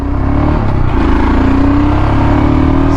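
A Royal Enfield Scram 440 motorcycle pulls away in first gear, its engine note rising steadily and loud up close with wind rumble underneath.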